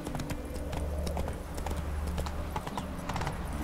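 The horse Roach gallops in The Witcher 3, with rapid rhythmic hoofbeats close up over a low rumble for the whole stretch, and no talk.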